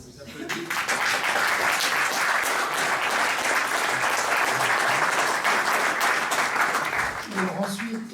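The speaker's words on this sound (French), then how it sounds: "Donc déjà, on vous applaudit." Conference audience breaks into sustained, dense applause that swells quickly and holds steady for several seconds before thinning out, with a voice starting to speak near the end.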